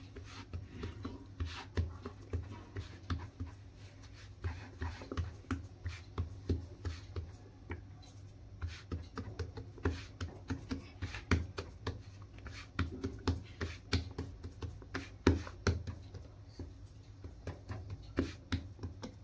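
Banana bhakri dough is patted flat by hand on a floured rolling board, giving soft, quiet, repeated slaps and pats in a steady rhythm throughout, close by and with no talk.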